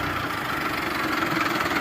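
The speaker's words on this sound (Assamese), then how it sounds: "ট্ৰেক্টৰ হাল বাই আহিলে" A tractor engine ploughing a farm field runs steadily nearby, a continuous low chugging drone with no pauses or voices.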